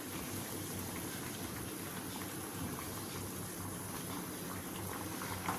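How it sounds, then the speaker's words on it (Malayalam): Water with raw mango pieces boils in a pot, giving a faint, continuous bubbling and simmering hiss with no talking. "വെള്ളമൊക്കെ നല്ലോണം തിളച്ചിട്ടുണ്ട്"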